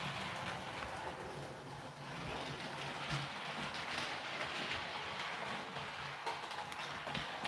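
A bargain-priced model railway locomotive runs around a freshly ballasted track, giving a steady rumbling clatter of wheels on rail that stays fairly faint and even throughout, with no speech.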